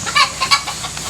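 Chickens clucking close by, a quick run of sharp, bright clucks in irregular bursts, loud and clear with no talking.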